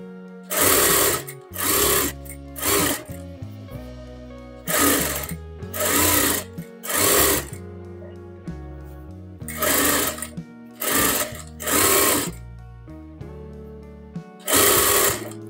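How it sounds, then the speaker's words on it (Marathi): A sewing machine stitches fabric for a katori blouse in about ten short, loud whirring bursts separated by brief pauses, with no voices heard. "अशा पद्धतीने शिलाई मारायची आहे."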